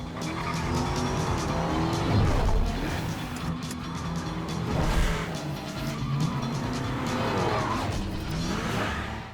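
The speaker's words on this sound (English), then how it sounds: "for Jeremy to be able to drift that through the parking garage where you have inches on each side of cement columns that we can't touch was amazing" A Mercedes drifts through a tight concrete parking garage, its tires squealing in long, wavering screeches over a roaring, revving engine, loud and continuous with echoing reflections.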